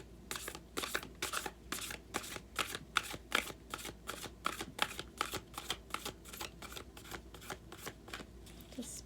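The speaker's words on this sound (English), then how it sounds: "Let's pull an Akashic card for you." Akashic oracle cards being shuffled: a quick, steady run of crisp riffling snaps, about two per second, close and fairly quiet, continuing without pause.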